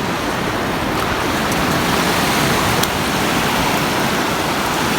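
Rough sea waves wash in a loud, unbroken roar of surf, steady and close, with no voices over the churning water.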